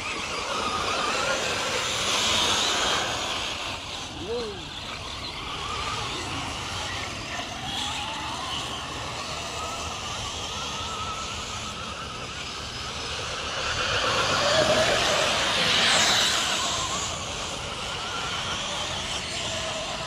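A Losi 8ight and a Traxxas Rustler VXL RC car racing on 3S power give a continuous rushing, whining roar with wind-like noise that swells louder midway, heard outdoors from a moderate distance.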